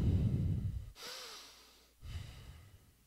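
Close, loud breaths, with a strong exhale and then sharp and slower inhales through the nose, sniffing and airy, with no speech.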